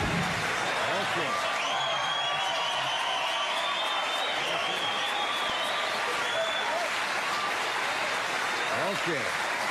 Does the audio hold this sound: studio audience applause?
yes